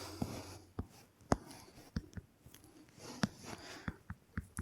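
Chalk or pen tapping and scratching on a board during a geography lesson, a quiet series of short irregular strokes and taps with one sharper knock, no speech over it.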